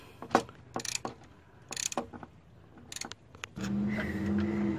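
A ratchet works loose a bolt on a sway bar link of a 2004 Honda Odyssey: bursts of quick clicking separated by pauses, then a steadier metallic whirring toward the end, close and moderately loud with no talk.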